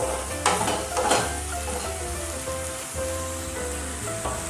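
A spice masala for a Bihari-style small charapona fish curry is roasted and stirred in a pan, producing a dense, continuous close sizzle with occasional louder scrapes and no speech.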